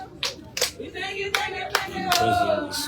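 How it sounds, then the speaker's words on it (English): An audience at the ribbon cutting for President Boakai's newly renovated maternal ward claps in scattered, uneven bursts near the microphone, with voices talking underneath. "I hear you clapping"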